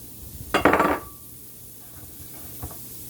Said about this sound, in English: now folks, we're gonna add in the carrots and the broccoli